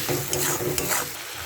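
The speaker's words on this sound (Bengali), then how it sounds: "মশলাটাকে একটুখানি ভেজে নেব আমি, মশলাটা যাতে পুড়ে না যায় একটুখানি জল দিয়ে দিলাম।" A cumin and coriander spice paste with a splash of water sizzles in a pan, with short stirring scrapes over the steady frying hiss.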